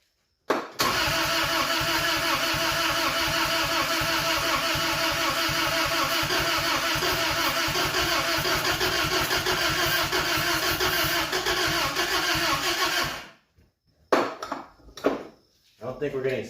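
A 1992 Isuzu pickup truck engine, started after years of sitting, cranking steadily for about twelve seconds with a rapid even chug that fails to catch, then a pause and a few short bursts, with people talking nearby.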